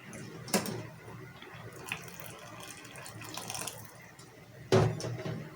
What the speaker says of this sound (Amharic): እኔ መካከለኛ ስለሆነ የምወደው ትንሽ ውሃ ትኩስ ውሃ አደርግበታለሁ ማለት ነው።